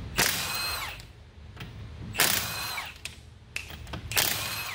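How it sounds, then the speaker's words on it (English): A power tool spins off 19mm lug nuts on a Honda Pioneer 1000 side-by-side rear wheel, three short whirring bursts separated by pauses, close and moderately loud, with quiet clicks between. "I'm gonna get these lug nuts off to start with."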